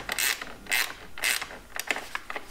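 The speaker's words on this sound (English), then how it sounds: "Perfect place for a gear wrench." A gear wrench ratchets on a John Deere compact tractor, with short bursts of clicking repeated four or five times at close range in a quiet space.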